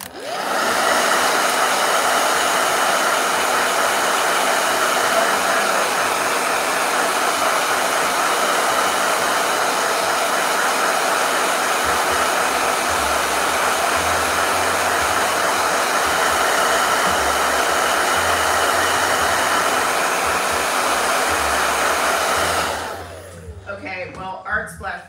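A hair dryer blows steadily and loudly at close range for over twenty seconds, used to dry a drawing of a rooster, then cuts off near the end.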